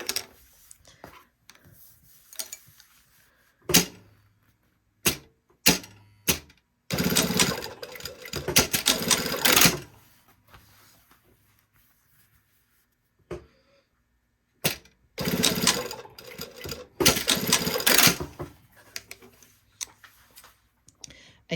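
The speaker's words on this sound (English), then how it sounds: "I'm going to sew straight across this corner here" A domestic sewing machine stitching straight across the corner of a garment collar, running in two sustained bursts a few seconds each, separated by short clicks and handling noises.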